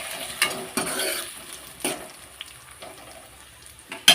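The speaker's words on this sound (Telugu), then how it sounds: "ఇలా ఉల్లిగడ్డ మొత్తం ఫ్రై కావాలి" Sliced onions fry in a pan for egg masala curry, a soft sizzle under a few scraping stirs of a spoon against the pan, close and fairly quiet.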